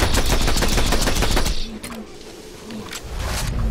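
Loud, rapid automatic gunfire from a Borderlands 2 boss fight, a dense burst for about a second and a half, then quieter scattered shots and game effects as a voice speaks briefly.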